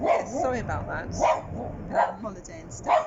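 A pet dog barks several times in a home, a few sharp barks spaced about a second apart at moderate distance, mixed in with people chatting casually over them.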